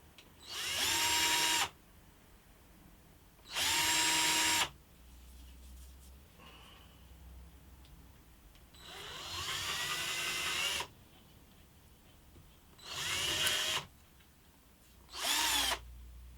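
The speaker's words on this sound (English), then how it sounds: "so we can now drill those out." Power drill boring holes into the front of an antique parlour guitar during a veneering restoration, heard as five loud, close whining bursts of a second or two each, separated by quieter gaps.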